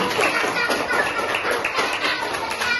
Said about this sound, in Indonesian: tepuk tangan dulu Pak kelompok 1